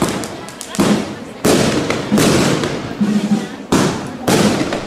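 Fireworks bursting over a town square on New Year's Eve, a series of loud, close booms and crackling volleys arriving in bursts every second or so, with faint crowd voices underneath.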